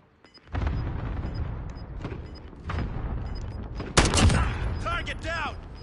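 A cluster strike in a Call of Duty match on PS5: short bursts of gunfire lead into a loud string of explosions near the end, mixed with game voice callouts and people talking.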